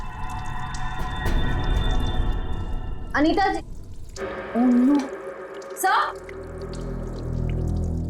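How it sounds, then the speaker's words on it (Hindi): Water fills in a bathroom during a crime-drama scene: a steady rush of running water under urgent voices calling out, with dramatic music. "बाथरूम में पानी भरने की आवाज आ रही है"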